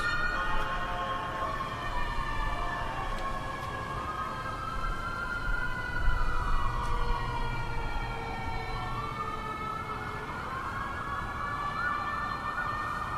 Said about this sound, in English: let the sirens pass.